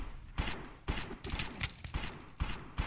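Rapid bursts of pistol fire in a Minecraft mini-game, sharp repeated shots in clusters with short gaps, loud and close.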